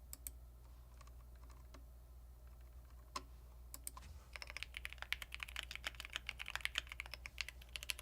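Typing on a computer keyboard: a few scattered keystrokes at first, then a rapid, busy burst of clicking key presses, close and fairly quiet over a low steady hum.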